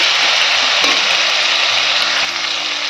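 Potatoes and drumstick vegetables frying in a pan with tomato, a loud, steady hiss of oil sizzling close up, with a couple of faint knocks from stirring.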